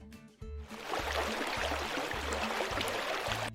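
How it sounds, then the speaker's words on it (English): Steady broadband rush of a flowing river, loud and continuous after a brief quieter opening, with a low repeating tonal pattern running underneath. "Next, we're going to add my flowing river sound,"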